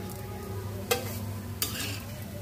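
Alu vadi, colocasia leaf rolls, frying in a pan with a steady close sizzle, broken by two sharp clinks or stirring scrapes.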